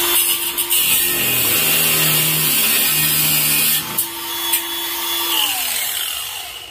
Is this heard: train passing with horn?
no